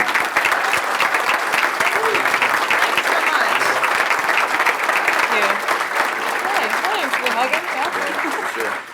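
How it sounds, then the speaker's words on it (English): Sustained audience applause filling a hall during a high school athletic hall of fame induction, steady and dense for the whole stretch, with a few voices and cheers mixed into the clapping. "Please give a warm round of applause for Brooke Hoover"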